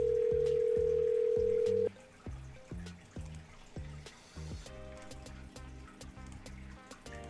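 A phone call rings out with a steady tone at first, then repeated short ringback pulses in an even rhythm, clear and close, with no talk over it.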